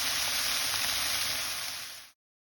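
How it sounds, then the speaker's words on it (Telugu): Beans and potato curry frying in a pan gives a steady, dense sizzle that carries evenly for about two seconds and then cuts off abruptly, with no talking. "బీన్స్ ఆలు ఫ్రై చేస్తున్నాం"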